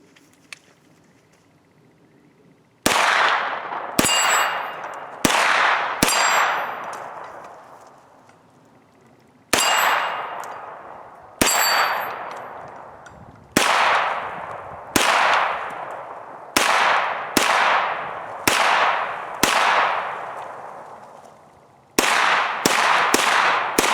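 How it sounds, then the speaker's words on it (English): A CZ Scorpion Evo pistol fires a string of sharp, loud single shots at an irregular, fairly quick pace, each crack ringing out with a decaying echo, with brief pauses between groups of rounds. "So let's go ahead, do 20 rounds, kick this off. First 20 rounds."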